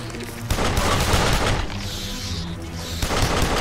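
Rapid bursts of gunfire in the Duke Nukem Forever shooter, loud dense volleys with a short lull in the middle before the firing picks up again, no talking.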